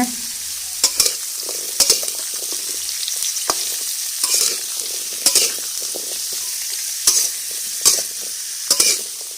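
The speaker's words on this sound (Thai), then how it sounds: "เมื่อใส่ฟักทองลงไปแล้วนะคะ เดี๋ยวเราจะใช้ทัพพีนะคะ เขี่ยฟักทองไปข้างๆ กระทะก่อนนะคะ" A ladle scrapes and stirs pumpkin in a hot wok, with a steady sizzle of frying underneath and sharp metallic scrapes recurring roughly every second, close and fairly loud with no talking.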